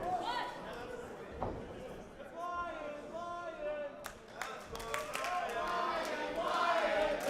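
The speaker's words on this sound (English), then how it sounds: "You hear the crowd get behind the flying line, Marcus Lewis." A pro wrestling match crowd cheers and chatters throughout, a steady roar of many voices that swells louder toward the end, with shouts rising over the din.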